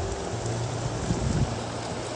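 Monsoon rain falls steadily at Kankeshwar temple, a continuous broadband hiss at moderate level with a faint low rumble underneath and no talking.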